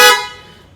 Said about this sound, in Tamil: இப்போ இருக்க ஹாரனோட சவுண்ட் இப்போ கேட்குறோம்.